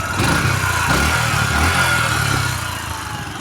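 A Yamaha YBR 125G motorcycle's small single-cylinder engine idles steadily close by, a low, even putter that holds for a few seconds and then eases slightly toward the end.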